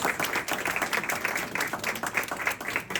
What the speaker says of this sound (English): again, a round of applause for our platinum level volunteers